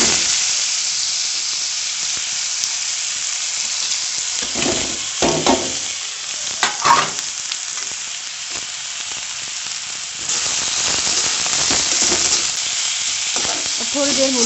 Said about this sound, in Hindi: थोड़ा सा जीरा, थोड़ा डालेंगे लाल मिर्च का तड़का